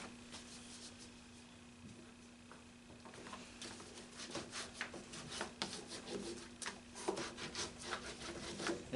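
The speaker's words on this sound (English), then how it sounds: "I'm going to burnish that." Paper burnished on a mini book, heard as soft rhythmic rubbing strokes that grow louder and busier after a quiet start, close up.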